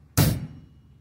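A single drum hit from a 16th-note triplet paradiddle-diddle groove on a drum kit, one loud, close broadband strike with a low thump that rings out briefly, heard alone.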